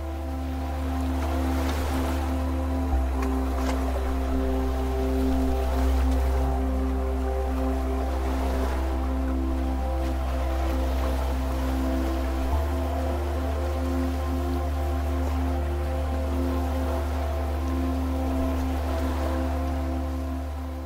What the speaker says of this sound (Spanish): Únete a las olas cuando se disuelven en el mar.